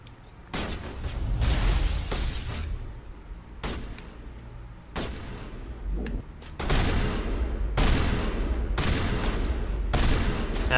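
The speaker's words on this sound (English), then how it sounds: "Oh, they're shooting at us from over there." Enemies open fire in the Mass Effect video game, with a string of sharp gunshot bursts and booming impacts scattered irregularly over a rumbling battle backdrop.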